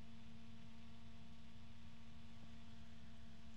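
An AABCooling Economy Series Fan12 120mm 2-pin DC fan runs with a steady, fairly quiet airy whoosh and a constant low tonal hum, unchanging throughout.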